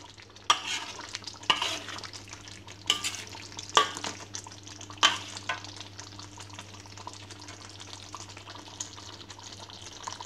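A spoon stirs Minang-style sambalado tanak in a pan over the stove, making a soft constant sizzle punctuated by several sharp scraping clacks against the pan, close and fairly quiet.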